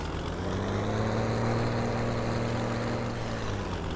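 A tractor engine in Farming Simulator 17 idles with a steady low drone and humming harmonics, loud and near, holding an even tone with no speech.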